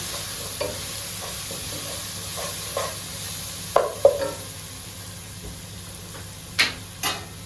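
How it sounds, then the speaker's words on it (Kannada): Chicken pulav being stirred in a pan after chilli powder is added, with a low steady sizzle and scattered spoon scrapes and clinks, a few sharper knocks standing out near the middle and end. "1 ಟೇಬಲ್ ಸ್ಪೂನು ಚಿಲ್ಲಿ ಪೌಡರ್ ಹಾಕ್ತಾಯಿದ್ದೇನೆ. ಒಳ್ಳೆ ಮಿಕ್ಸ್ ಮಾಡಬೇಕೀಗ."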